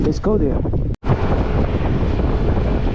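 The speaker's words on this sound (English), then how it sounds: "as you can see, so windy guys, so windy, raining" Strong wind buffets the microphone outdoors in heavy rain in the UK, a loud, constant roar after a short spoken phrase at the start and a momentary cut.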